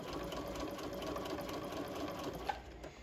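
A sewing machine runs a long basting stitch through fabric, a steady, quiet mechanical whirr with rapid needle ticking that holds unbroken for the whole stretch, with no speech over it.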